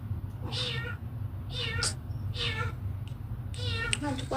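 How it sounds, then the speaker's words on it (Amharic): A distressed cat meows repeatedly, four or five drawn-out plaintive cries over a low background hum, fairly close and clear. "ምን ሆና ነው ድመቷ"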